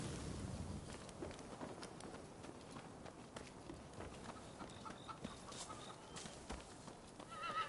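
Horse hooves clip-clopping at a run in the Rise of the Ronin video game, a steady close rhythm with occasional whinnies over continuous game ambience, no talking.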